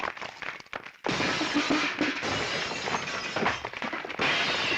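A house is smashed up with stones and sticks while glass shatters, in a violent scene from a Tamil film. The crashing is loud, dense and continuous, with a short gap before a heavier wave of breaking.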